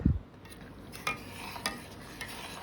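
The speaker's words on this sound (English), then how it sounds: "we'll add 1 cup of sugar and stir this well till this becomes into a thin sugar syrup" A spoon scrapes and clinks rhythmically around a pan as water and sugar are stirred into a thin syrup for kada prasad atta halwa, with soft swishing between a few light taps.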